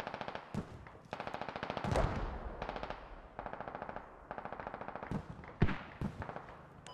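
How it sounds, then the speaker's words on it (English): Automatic rifle fire in the video game Squad, during an infantry combat playtest: repeated rapid bursts of shots in quick rhythmic strings, fairly close and loud, with a few heavier single impacts. "I don't know where my bullets are going right now."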